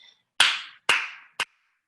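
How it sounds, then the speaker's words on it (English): Three sharp, close hand claps ring out one after another in a quiet room, the last one shorter and clipped. "Are you applauding?"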